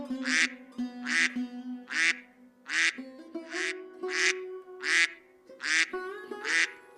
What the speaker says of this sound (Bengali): আজ আবার হাঁসগুলো এত তাড়াতাড়ি কি করে এলো? আর এত চিৎকার কেন করছে?